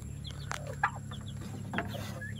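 Soft peeping and clucking of turkey and chicken chicks, several small chirps scattered over a steady low hum.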